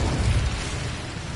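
An Incendio fire spell cast in Hogwarts Legacy bursts out as a loud, rumbling whoosh of flame, with heavy low booms for the first half-second settling into a steady roaring hiss for the rest of the moment.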